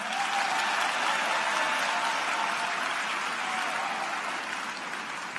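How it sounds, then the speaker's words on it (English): Conference audience gives a sustained round of applause for junior high school students at an opening plenary, dense even clapping filling the room and tapering slightly toward the end. "One more round of applause for these students from Annie Camp Junior High School."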